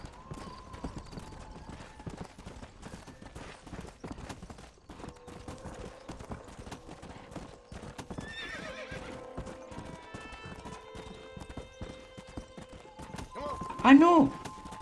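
Horse hooves clip-clop steadily through Red Dead Redemption gameplay, with a brief whinny near the end, set over soft game music and ambient sound.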